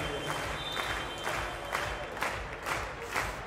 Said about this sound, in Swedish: Står man upp och klappar fram sitt hemmalag i den här historiska premiären.